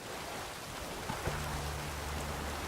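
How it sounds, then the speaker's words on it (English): Steady rain falls in The Witcher 3, a dense, even hiss of drops on surfaces that runs unbroken throughout, with a faint low hum and a brief soft knock partway through. "It's raining, of course it's going to be."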